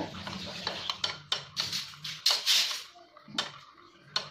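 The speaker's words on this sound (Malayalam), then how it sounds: "ഇതിലേക്ക് ഒഴിച്ച് നല്ലപോലെ ഒന്ന് മിക്സ് ചെയ്ത് നല്ലൊരു പേസ്റ്റ് ആക്കി എടുക്കാം" A spoon clinks and scrapes against a bowl as milk is mixed with packet paneer butter masala powder into a paste, quick repeated metallic taps in an uneven rhythm, close and clear.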